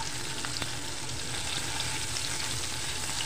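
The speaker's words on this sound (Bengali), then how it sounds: "রুই মাছ হলুদ, মরিচ আর লবণ দিয়ে মেখে একটু ভেজে নিব, হালকা ভাজা দিব" Rohu fish pieces coated with turmeric, chili and salt lightly frying in oil, giving a steady, close, continuous sizzle with faint crackles and no talking.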